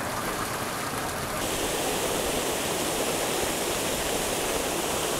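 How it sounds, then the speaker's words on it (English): Treated wastewater pours over a weir at a treatment plant after chlorine disinfection, a steady, loud broadband rush of falling water that fills the whole stretch without a break. "After that, it flows over a weir, and the chlorine is removed before going to the river."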